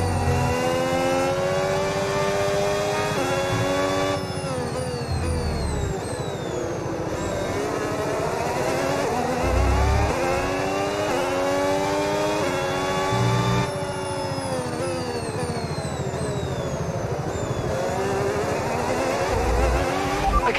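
Formula 1 race car engine in the video game F1 25 at Bahrain International Circuit, a loud, continuous high-pitched whine that rises and falls repeatedly through gear shifts and corners, with no voices.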